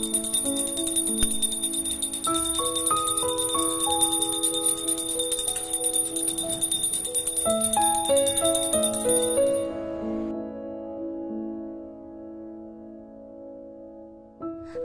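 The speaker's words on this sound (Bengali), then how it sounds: "যখন জল দেবে তখন অবশ্যই ঘণ্টার ধ্বনি করবে।" A puja bell rings continuously during Shiva lingam worship on Maha Shivratri, a bright sustained metallic ringing with layered tones that carries for about ten seconds, then fades into lingering resonant hum.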